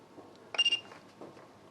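An Inkbird INK-IFT03 infrared thermometer gives a short alarm beep, a quick triple pulse of high electronic tones up close, with faint softer blips after it.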